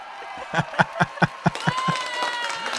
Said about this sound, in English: I'll do an applause for that.